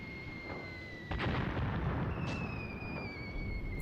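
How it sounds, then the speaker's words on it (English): Artillery barrage in the tank war game Graviteam Tactics: Mius Front: heavy booms and rumbling blasts, with one sharper impact near the one-second mark, continue over a dense low roar while faint whistling tones glide overhead. "it looks from this angle like they're getting caught in that barrage"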